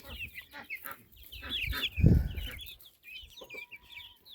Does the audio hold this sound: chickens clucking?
yes